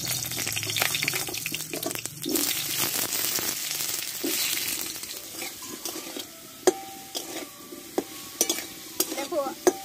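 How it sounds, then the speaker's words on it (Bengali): Potatoes frying in mustard oil in a hot wok: a steady broadband sizzle and stirring that settles into a softer hiss, with a few sharp utensil clinks against the pan toward the end. "এতে আমি কিছুটা সর্ষের তেল দিয়ে দেবো, দিয়ে আমি আলুটাকে কষে নেব।"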